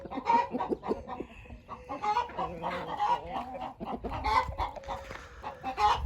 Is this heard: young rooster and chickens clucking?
yes